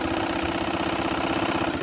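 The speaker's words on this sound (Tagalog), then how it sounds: "Smooth ang takbo ng makina nanay." A portable sewing machine runs steadily, its motor giving a smooth, even mechanical whir with a fast repetitive clatter, heard close and alone for a short stretch.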